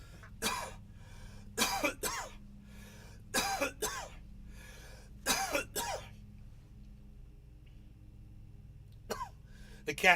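Harsh bursts of coughing and throat clearing after a bong hit come in several close, clustered fits over a few seconds. A quiet pause follows, then a final cough.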